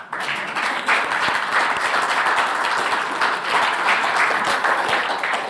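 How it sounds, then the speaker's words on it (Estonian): An audience at a seminar on woodland key habitats applauds, a dense, steady wash of many hands clapping that holds evenly for several seconds in a room. "ma arvan, et see väärib kolmandatki aplausi"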